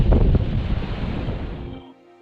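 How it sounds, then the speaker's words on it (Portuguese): Ocean waves of half a metre to a metre breaking at the river mouth entrance of the Cricaré at São Mateus, Brazil, on a rising sea: a close, loud rushing wash that fades away toward silence. "O mar subiu hoje, tem meio metrão a 1 metro de onda na série"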